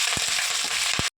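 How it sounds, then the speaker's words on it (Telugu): Curry leaves crackle in hot oil, a close, dense sizzle with a couple of soft thumps before it stops abruptly. "కరివేపాకు ఫ్రై చేసుకున్నాం ఆయిల్లో"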